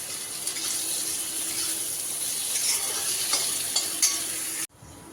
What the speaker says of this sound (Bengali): যতক্ষণে আলু ভাজা হচ্ছে